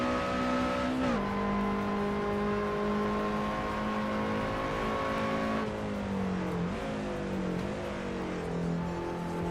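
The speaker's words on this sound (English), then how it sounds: "This thing goes to like crazy RPMs." Race car engine in the Assetto Corsa sim racing game, revving hard to very high RPMs with a steady loud whine, then rising and dropping pitch through shifts, heard alone without talk.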